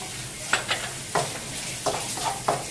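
A pan of cooking food with a few olives added is stirred, giving a soft steady sizzle under several sharp scraping strokes of a utensil at an uneven rhythm, close and clear with no talk.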